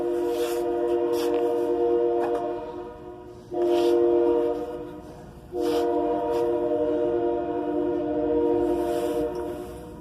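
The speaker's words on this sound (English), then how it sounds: "train." A train's horn sounds in several long loud blasts, with short breaks between them, over the steady rumble of rail cars passing nearby.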